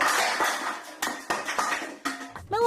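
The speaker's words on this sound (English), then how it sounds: "throw pans and other kitchen items across the room." Pans and other kitchen items are thrown across a room, giving a rapid series of loud metallic bangs, clatters and bounces, one after another at close range.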